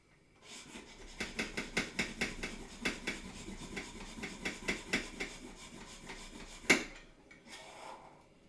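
A handheld milk frother is plunged by hand to froth milk for coffee, giving a steady run of rhythmic swishing, rubbing strokes close by, ending with a sharp clack and a brief softer rustle.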